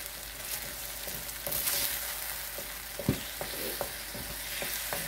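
Fish sauce, sugar and lemongrass are sautéed, filling the pan with a steady sizzle, while spoon scrapes and taps land at irregular intervals over several seconds.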